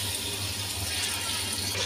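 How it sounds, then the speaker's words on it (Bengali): Water poured into a pot of spices fried down for a Bengali hilsa, taro and bottle gourd curry, a steady close gush and fill lasting a couple of seconds with no talk. "এই তো মশলাটা কষানোর পরে আমি একটু পানি দিয়ে দিচ্ছি"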